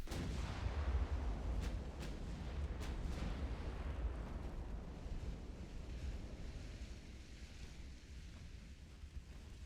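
Warship guns firing in the naval game Ultimate Admiral: Dreadnoughts, heard as a few sharp distant booms early on over a steady rumble of sea and wind that fades slowly.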